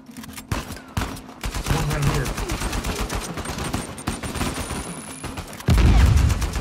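Rapid rifle gunfire with heavy recoil in Uncharted 4, a dense continuous volley of loud shots with a heavier blast near the end, while a player talks over the action.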